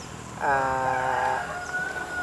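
A rooster crows once, loud and close, in a single drawn-out call at a small laying-hen farm, with faint background clucking from the flock before and after.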